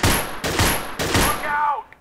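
An Allied SMG 26-40 submachine gun in the VR game Gun Club VR fires loud, close bursts in rapid succession. Three short volleys are followed by a brief mechanical whine.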